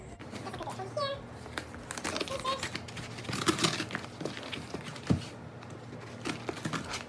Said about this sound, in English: Just gonna go ahead and let's open this box together.